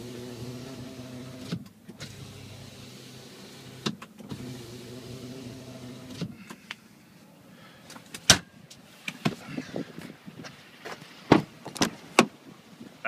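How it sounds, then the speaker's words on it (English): Electric motor of the power sliding rear window on a 2014 Chevrolet Silverado LTZ Z71 pickup whirs steadily in two runs, then the cab fills with sharp clicks and small knocks, close and moderately loud. "Power sliding windows right here."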